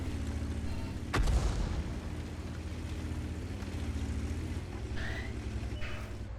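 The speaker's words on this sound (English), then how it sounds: "There's an Artie shot." An artillery shell lands in World of Tanks, a single sharp boom near the start that rises above a steady rumble of tank engine and battle noise.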